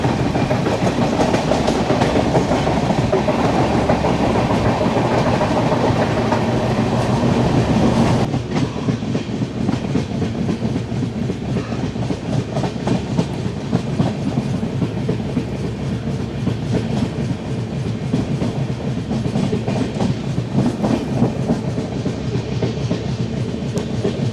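A passenger train travelling the line toward Thrissur in Kerala, with steady rail clatter and rolling wagon rumble throughout, a loud continuous run that shifts in tone partway through, heard from on board.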